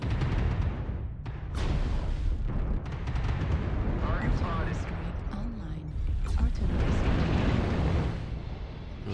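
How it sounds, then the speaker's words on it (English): Artillery strike explosions in the video game MechWarrior Online rumble in a dense, continuous wall of heavy booms and blasts, with someone talking over the barrage. "There's a strike. I saw the strike."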